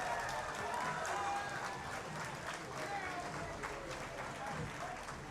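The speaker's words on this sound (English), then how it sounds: "give him a cheer, come on!" A live crowd at a League of Legends Oceanic championship semi-final cheers and applauds, a dense, steady wash of clapping and shouts that fills the hall, with a caster's voice talking over it.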